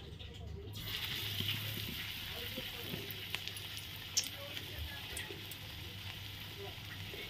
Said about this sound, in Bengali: কড়াইতে তেল বসিয়ে দিয়েছি। দেখো তেল গরম হয়ে গেছে। আমি এখন অল্প অল্প করে দিয়ে দেব।